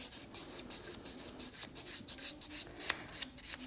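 A nail file rasps back and forth over a gel-shaped fingernail in quick, soft rhythmic strokes, close and quiet with no voices.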